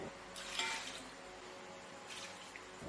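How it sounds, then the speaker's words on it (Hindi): Water pours into a large pot holding beef bones and trotters for paya, two short splashing gushes with a quieter trickle between them, close by. "उसमें तकरीबन आपने 4 ग्लास पानी भी डाल देना है।"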